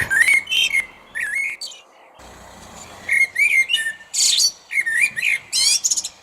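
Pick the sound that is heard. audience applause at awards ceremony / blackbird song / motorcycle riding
blackbird song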